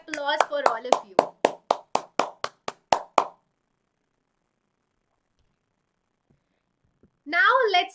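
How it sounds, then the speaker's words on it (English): Single pair of hands clapping close up in an online accounts class, about a dozen crisp evenly spaced claps that stop abruptly, followed by silence and then a voice speaking. "A huge round of applause for all of you."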